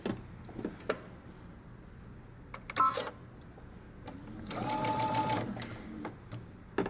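A sewing machine runs a short burst of stitching down the side seam of a dress, quiet and close, between light handling clicks and thumps.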